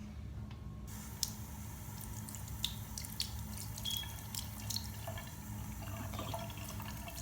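Tap water runs steadily into and over a plastic slime kit cup being rinsed at a sink, a constant close wash of flowing water broken by scattered small drips, splashes and clinks.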